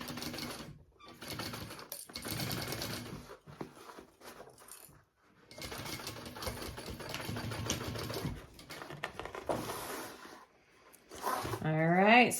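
A sewing machine stitches along the side of a tote bag in bursts of rapid mechanical whirring, stopping and restarting several times, close up, with a voice talking briefly near the end.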